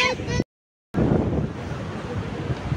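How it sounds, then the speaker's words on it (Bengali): Sea waves roar and wash in a steady broadband rush at the beach at Cox's Bazar, windy and close, after a brief cut to silence near the start. "সমুদ্রের গর্জন।"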